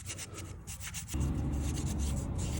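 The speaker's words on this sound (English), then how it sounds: "first off, we're gonna clean it with Never Dull" Vintage Case XX fixed-blade knife scrubbed with rough, wool-like Never Dull wadding: a continuous close rubbing rasp that turns louder and heavier about halfway through, steady with no talking.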